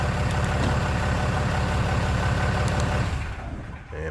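2014 RAM truck engine idles with a steady, close rumble, then dies away near the end as it is switched off with the key, leaving quieter background.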